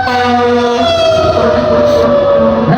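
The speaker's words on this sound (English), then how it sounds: "The sirens come by." Emergency vehicle sirens wail continuously as they pass close by, a loud rising-and-falling tone over steady traffic rumble, with no voices.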